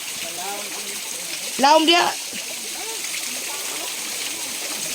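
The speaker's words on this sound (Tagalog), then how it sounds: "Flowing the water over there, grandpa, for the irrigation of the farm." Water runs steadily through a farm irrigation channel, a constant rushing wash under bird chirps and a brief burst of speech.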